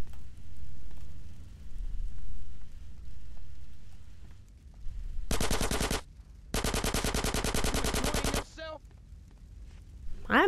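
Rapid automatic gunfire from the video game Grand Theft Auto San Andreas, two loud sustained bursts, the second longer, following a stretch of low game ambience.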